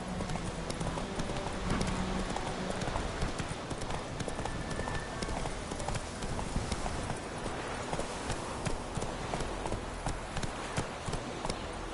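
Hooves of Roach, a horse in the video game Witcher III, clip-clop in a fast, steady galloping rhythm throughout, with a short spoken word and game sounds mixed in.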